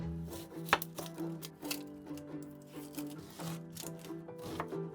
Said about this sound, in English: We'll begin by chopping our ingredients.